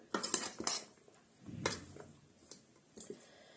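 Okroshka ingredients with radish being mixed in a bowl, quiet close clinks and scrapes of a utensil against the dish in a few separate bursts with soft squishy stirring between.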